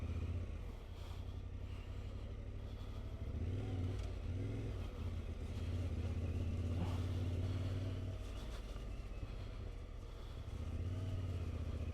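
A Yamaha Tenere 700 motorcycle rides a green lane with a steady, loud engine drone that rises and falls slightly with throttle, plus wind and road rumble throughout and no talk.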